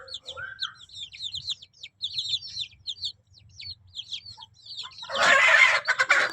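Native chicken chicks of a new variety cluck with a busy stream of high, chirpy peeps, repeated rapidly, then a brief burst of louder rustling noise near the end.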